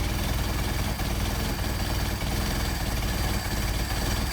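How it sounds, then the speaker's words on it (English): An engine idles steadily up close while its idle mixture screw is turned, a continuous loud rumbling drone with slight wavering and dips in rhythm as the idle grows rougher. "I'll demonstrate how the idle goes downhill when it's in the wrong place"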